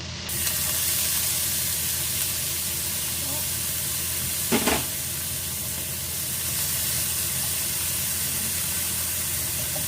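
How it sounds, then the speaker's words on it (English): Bacon fries in an already hot pan with a steady, loud sizzling hiss that runs unbroken throughout, with a brief louder crackle near the middle. "the pan is already hot. I put this one, the bacon"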